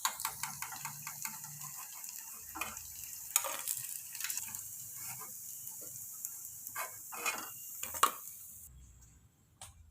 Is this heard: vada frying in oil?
yes